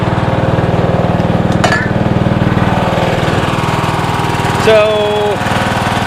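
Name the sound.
John Deere 160 lawn tractor with Kawasaki engine running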